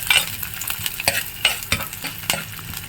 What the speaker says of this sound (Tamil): வெங்காயம் போட்டு நல்லா வதக்கி விட்டுக்கணும்